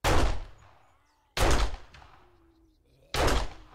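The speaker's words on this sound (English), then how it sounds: "Spamming shots on him." Three loud, sharp gunshots fired at an enemy in the video game 7 Days to Die, spaced about a second and a half apart, each with a quick decaying echo and near silence between.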